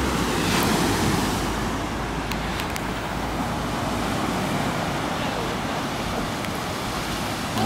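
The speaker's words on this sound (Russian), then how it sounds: "Да, волны такие большие довольно сегодня." Large sea waves roll onto a beach on a bright morning: a steady, loud wash of surf with wind buffeting the microphone, and no clear talking.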